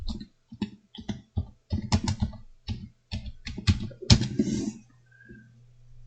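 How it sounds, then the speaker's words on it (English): Fingers type on a computer keyboard in quick irregular bursts of close, crisp key clicks with short pauses, ending in a faint hum. "And we'll type in graphics cards."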